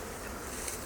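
Honey bees buzzing around a hive box, a continuous close droning hum with no voices, brief and steady in level.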